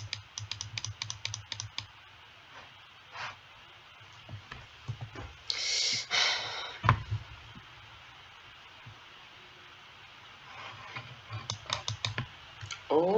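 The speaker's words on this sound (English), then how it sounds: "I'll just keep clicking on the bed." Quick clicking from a computer mouse and keys during a Minecraft session at nightfall, in scattered bursts of short ticks at the start and end with a louder clatter in the middle, fairly close and moderately quiet.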